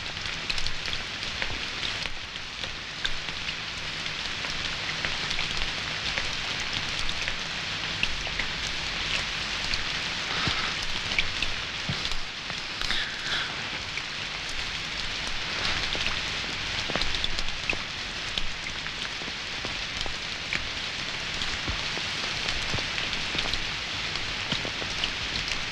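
Steady rain pours down continuously, a dense even hiss of drops striking surfaces with occasional louder drips, lasting throughout with no voices.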